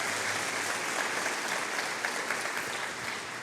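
A church congregation applauds together during a Portuguese-language sermon, a dense, steady wash of clapping heard from a moderate distance, with no speech.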